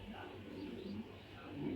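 Racer pigeons give low, soft cooing close by, mixed with a voice talking over them.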